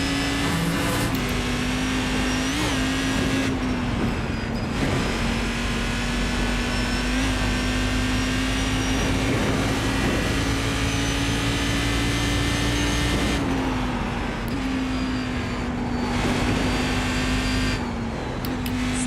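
Race car engine in a sim racing video game, a loud sustained drone holding a steady pitch with brief dips and rises as the throttle eases off and picks back up.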